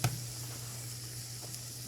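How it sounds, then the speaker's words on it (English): About half a cup of onions sizzles steadily in a hot pan, a constant close hiss with a faint steady hum underneath and no talking. "we're going to be adding in about half a cup-ish of onions"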